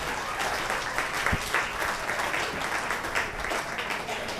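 An audience applauds steadily during a comedy and improv night, the clapping filling the room from start to end at an even strength.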